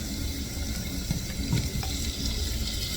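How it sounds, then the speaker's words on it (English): Home-canned beans, not liquidy, go into a pot with oregano, giving a steady wet pouring and splashing wash with a few soft plops, close and continuous throughout. "now I'm gonna put the beans into this"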